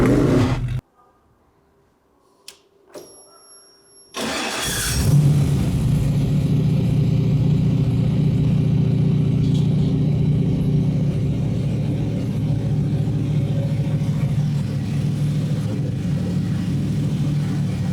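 A V8 engine fitted in a Volkswagen Beetle cranks briefly after near silence, catches, and settles into a loud, steady, rumbling idle that carries on alone.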